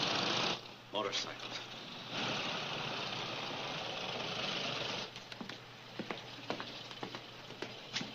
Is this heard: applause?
no